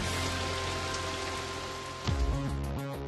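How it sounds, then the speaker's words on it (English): Simulated torrential downpour sprayed onto an RV show coach for a leak test: a steady, dense roar of water drumming on the coach body, with a low machine hum underneath and a brief louder surge near the end. "They must first simulate a torrential downpour to check for any leaks."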